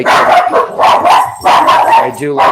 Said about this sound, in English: Sorry about the dog. Don't know what she's barking at.